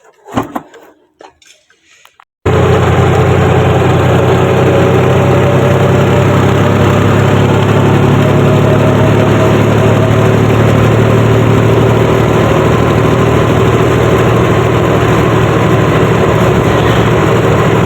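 Tractor engine idling steadily and loudly close by, a continuous low rumble that starts abruptly after a couple of seconds of quiet clatter and holds unchanged to the end.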